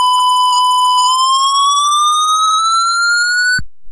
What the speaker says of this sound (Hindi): बीप आपको सुनाई दी होगी और ये साउंड आया था